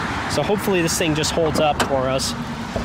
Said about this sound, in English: I'm sorry about the traffic, guys. That's a little bit loud.